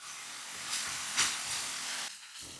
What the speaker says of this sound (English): Now just mix it and brown this meat well.